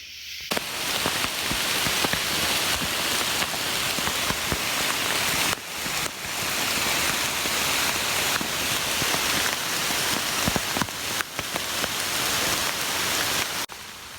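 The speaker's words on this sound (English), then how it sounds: "It's been raining pretty much since 4." Heavy rain falling on a primitive shelter on an island at night, a dense, continuous hiss of drops striking close by, briefly dipping twice, with no talking.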